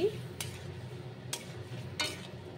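Ghee going into a pan with garam masala powder, a faint low sizzle under three short scraping strokes of a spoon stirring, spaced out and quiet, with no voices.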